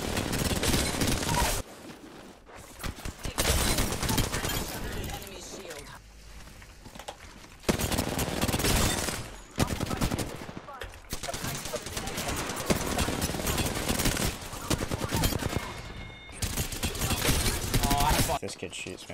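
Rapid gunfire from the shooter Apex Legends, with a Revenant player in a squad firefight: repeated dense bursts of shots and impacts, loud and close, broken by brief lulls, with game voice lines and player talk over it.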